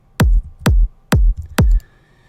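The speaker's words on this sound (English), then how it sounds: "So the kick sounds like this." Four punchy electronic kick drum hits in an even rhythm, each a deep booming thump with a sharp click at the start, loud and dry.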